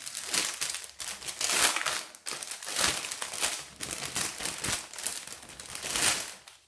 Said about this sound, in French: Allez, je vais déballer tout ça.